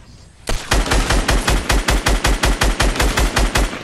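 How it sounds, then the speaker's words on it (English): Fast, evenly spaced gunfire from dual pistols in Fortnite, a loud close burst of around twenty sharp shots in steady rhythm after a quiet start. "Was that dual pistols?"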